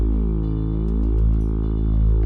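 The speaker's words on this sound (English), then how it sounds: "if you just hear this enemy hovering in the distance, it would sound something like this" Eerie synthesized drone of a hovering flying enemy for a game, steady and continuous with slowly sliding, crisscrossing tones that waver in pitch, heard alone without talk.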